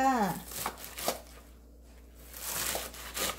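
A kitchen knife chops Korean water parsley (minari) on a cutting board while kimchi is being prepared, a few crisp close cuts separated by a quiet pause.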